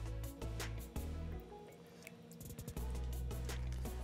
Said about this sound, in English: the easiest way is to get some water and simply pour it into your mold